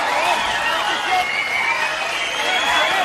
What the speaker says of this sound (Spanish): Un aplauso para ellos con Estar Contigo.